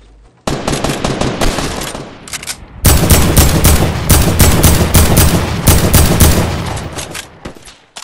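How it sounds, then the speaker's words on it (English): Loud automatic gunfire in Fortnite opens with a burst, pauses briefly, then resumes as dense, sustained rapid fire that fades at the end. The shots are close and heard alone. "Who's shooting me?"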